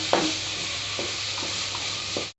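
Small cubes of chopped tomato sauté in a pan for chicken biryani, a soft steady sizzle broken by several scraping stirs of a spoon, with no talking.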